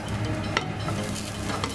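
Chopped garlic hits a very hot oiled pan and fries with a steady close sizzle, while a utensil stirs and scrapes briefly partway through.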